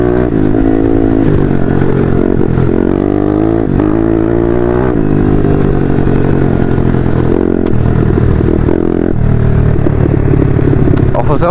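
Motorcycle ridden fast along forest trails, its engine droning loudly and continuously with shifting pitch and rattling clatter from the rough ground, close throughout.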